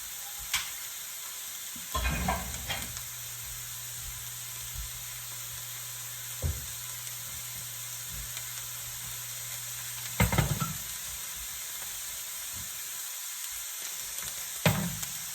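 A rubber spatula stirring food in a pot on the stove, with a steady sizzle and hiss throughout and occasional soft scrapes and knocks against the pot, no talking.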